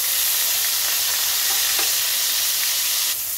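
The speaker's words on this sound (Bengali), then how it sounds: "সবার প্রথমে আমি চিংড়ি মাছগুলোকে ভাজা করে নিচ্ছি" Prawns frying in hot oil in a kadai on a gas stove, a loud, continuous bright sizzle with a few faint stirring clicks and no talk.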